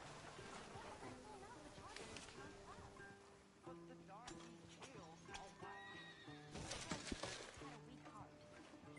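A horse in the Red Dead Redemption video game neighs and whinnies several times over clip-clopping hooves, close and clear, with game voices and background music underneath.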